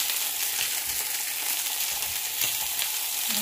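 French fries taken from the fridge fry in hot oil with a steady, close sizzle and faint crackles throughout.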